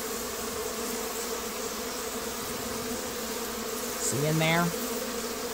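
Honeybees swarm inside a mobile home hive during a removal, giving a steady, close, dense buzz. A brief louder rising buzz comes near the end, and a person speaks briefly.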